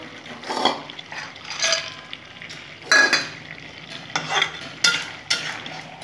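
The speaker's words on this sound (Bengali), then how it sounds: "নাড়িয়ে নেব।" A spoon scrapes and turns a vegetarian dish with bori lentil dumplings and coriander leaves in a pan, in several distinct close strokes over a soft background hiss, with no talking.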